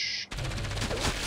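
Gunfire aimed at the player in Enslaved: Odyssey to the West, a sudden rapid burst of close, loud shots that starts after a brief hush and keeps rattling steadily.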